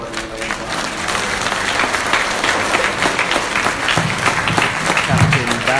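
A luncheon crowd at the Ritz-Carlton in Buckhead, Atlanta, applauds loudly and continuously for about six seconds, with faint voices underneath.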